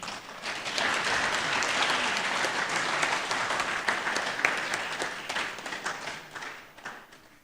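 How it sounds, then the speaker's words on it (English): A lecture-hall audience at a memorial lecture gives a sustained round of applause, dense clapping that swells and then tapers off toward the end. "give our chair a big round of applause"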